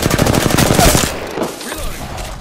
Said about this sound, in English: The enemies are shooting at me.